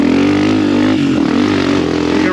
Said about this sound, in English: On the dirt bike,